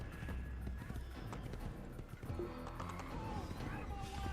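Horse hooves clip-clop steadily in an Assassin's Creed game as the rider pushes through a crowd, the rhythmic beats layered over a dense bed of game ambience and background voices, with a brief whinny.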